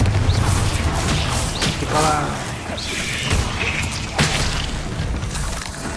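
Hogwarts Legacy spell combat as Bombarda and Confringo blasts go off, a series of booming thuds and crashes in quick succession, with a voice speaking over the explosions.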